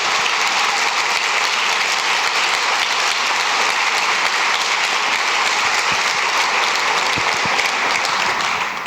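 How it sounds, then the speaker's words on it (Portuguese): A church congregation claps together in sustained, dense applause that holds steady and loud for the whole stretch, with no talking over it. "Se é para Ele, aplauda mais forte."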